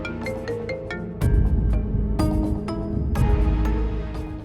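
A phone rings with an incoming call, playing a bright, melodic ringtone of repeated tonal notes, loud and close with no talking.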